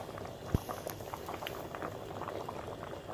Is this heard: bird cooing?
no